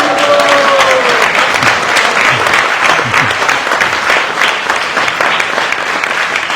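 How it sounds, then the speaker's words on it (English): Audience at a wedding ceremony applauding warmly, sustained clapping from a crowd that stays fairly loud and even for several seconds, with a few brief vocal sounds mixed in. "Give her a big round of applause."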